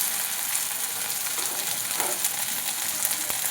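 Steady, loud sizzling of food frying in a pan fills the whole stretch with a dense hiss, close up and continuous, with no voices.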